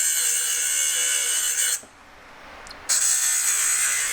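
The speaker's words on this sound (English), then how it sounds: "got any kind of like cutter wheel, maybe have a go with that as well. I like them as they cut." A small cutter wheel on a rotary tool cuts into a metal leaf ring with a steady, high, whining buzz. It stops for about a second, then resumes at the same close, loud pitch.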